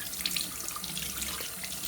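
Tap water runs steadily over hands being wet for washing at a sink, a continuous close hiss and splatter with no speech.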